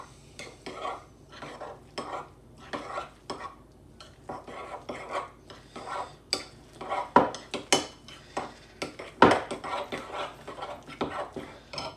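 A spoon scrapes and clacks around a bowl as protein powder is mixed into cottage cheese, irregular rubbing strokes and sharp taps close up, with no talk.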